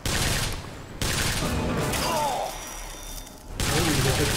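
Shotgun fire in the video game Bioshock Infinite, a couple of sharp blasts with a dull gap between them, heard close in the game mix while someone talks over it.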